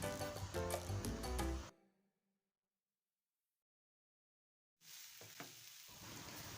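Fried instant noodles with soy sauce are stirred in a hot pan, giving a close sizzle with scraping stirs that drops to silence for a few seconds before the frying resumes.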